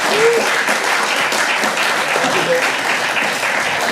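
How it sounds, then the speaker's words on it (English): A room full of people clapping after presentations, dense and steady throughout, loud and close, with no voices standing out. "I hope you can join me in thanking and applauding some brilliant presentations."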